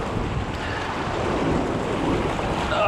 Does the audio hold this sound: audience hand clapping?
no